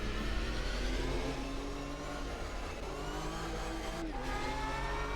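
A Porsche GT3 race car engine in the sim racing game Automobilista 2 drones steadily at a high, even pitch, its whine shifting slightly as revs change, with no talk.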